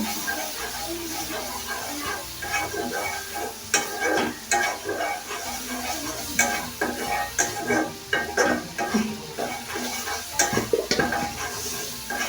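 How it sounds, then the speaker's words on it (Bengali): Bay leaf and cinnamon sauté in hot oil for a small-fish chorchori, a continuous close sizzle with frequent scraping and clinking of a spatula stirring the pan. "আমি এখন সুন্দর করে এটা কষাবো"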